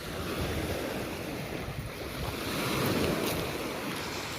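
Steady surf washing onto the shore at Yeysk on the Sea of Azov, a continuous broadband roar mixed with wind buffeting the microphone, swelling slightly toward the end.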